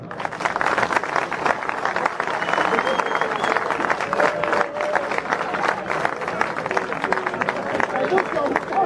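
Audience applause at an outdoor party event, dense continuous clapping from a crowd mixed with cheering and background chatter, sustained at a steady level throughout.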